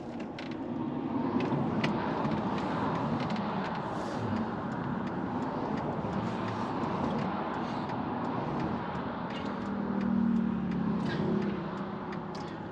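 A lorry pulls out onto a road ahead, heard from inside a van as a steady broadband traffic and engine rumble throughout, swelling slightly near the end, with no talk.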